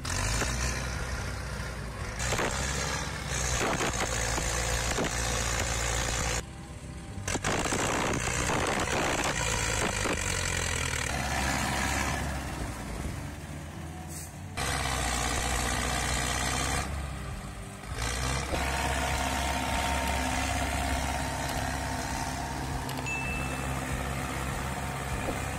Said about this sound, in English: With its powerful engine, the vehicle perseveres, moving through slippery roads and facing the challenge of the muddy terrain